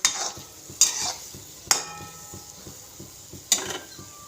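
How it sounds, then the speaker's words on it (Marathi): Sweet banana fritters (bhaji) frying in hot oil on low heat, a soft continuous sizzle punctuated by four sharp scraping stirs of a spoon against the pan at irregular intervals. "मस्त अशी आपली गोड भजी तयार होतात पहा आता छान याला आपण गोल्डन ब्राऊन होण्यापर्यंत फ्राय करून घेऊया"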